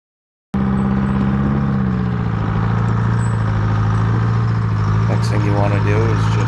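A loader's engine runs loud and steady as the machine drives onto heavy 1,200-pound ring tire chains, a constant diesel rumble with faint clanks near the end and a voice talking over it.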